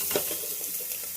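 Ingredients being sautéed in a hot pan while cooking flat beans, with golden-brown frying in progress: a steady close sizzle with soft scraping stir strokes throughout and no talking.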